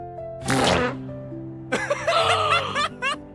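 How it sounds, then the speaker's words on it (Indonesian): A chair gives off a loud fart-like squeak when someone sits on it, and a burst of people laughing follows it. "Tapi tiba-tiba kursi yang diduduki Jen bunyi mirip kentut."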